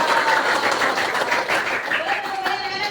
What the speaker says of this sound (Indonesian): Oke, boleh tepuk tangan juga